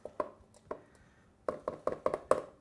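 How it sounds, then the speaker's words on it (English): A spatula scraped and tapped against a bowl to clear off almond cookie batter: a few scattered knocks, then a quick run of five or six sharp taps, close and clear with no talk. "try to scrape off my spatula there"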